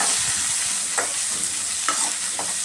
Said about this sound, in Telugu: కొంచెం కరివేపాకు వేసుకున్నాం. బాగా వేగాలి.